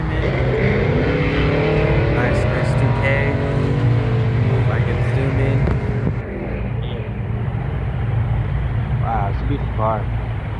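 Mitsubishi Evo pulling into a car meet at a cafe, its engine a steady loud rumble and drone over constant background crowd noise, with people talking nearby.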